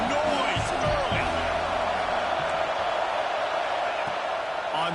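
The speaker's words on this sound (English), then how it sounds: "This crowd bringing the energy and noise early." Stadium crowd at a Penn State versus Michigan college football game, a dense continuous roar at steady loudness throughout, with a commentator's voice heard over it.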